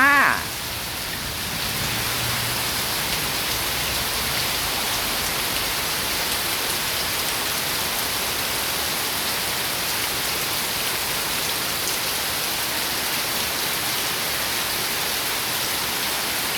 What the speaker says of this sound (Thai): เสียงฝนตกนะคะ